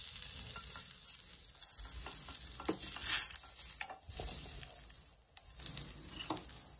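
Butter and garlic pieces frying in a pan for a potato cheese sandwich, a steady close sizzle with occasional stirring scrapes and crackles, no voices.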